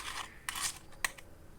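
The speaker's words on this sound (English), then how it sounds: "cut the extra yarn" Scissors snipping through crochet yarn, two quick, close, crisp cuts about half a second apart against a quiet background.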